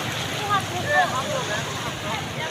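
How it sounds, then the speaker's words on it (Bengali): Big sea waves roll in at Cox's Bazar beach as a steady, broad wash of surf mixed with wind, with faint voices drifting over it. "কত বড় বড় ঢেউ আসছে"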